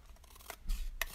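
Scissors snipping off excess paper from a craft piece, two or three quiet, close crisp cuts in about a second.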